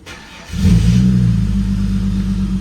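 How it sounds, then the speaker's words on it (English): A Holden Commodore VT/VX/VY engine starts after a brief crank, then settles into a loud, steady rumbling idle close by. "just start the car"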